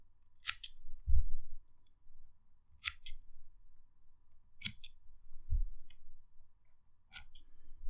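Scissors snip cotton wick for a Hellvape Fat Rabbit RTA in about five or six sharp, close clicks spaced a second or two apart, with soft handling noises between.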